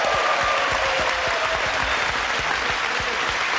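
A studio audience on a 1984 Match Game–Hollywood Squares game show breaks into sustained, dense clapping that holds steady from start to finish, loud and close, with no talk over it.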